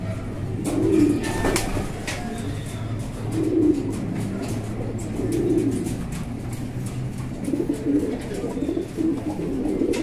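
Racing pigeons coo in soft, repeated rounds of low, throaty calls from fairly close by, with faint rustling and clicks between the coos.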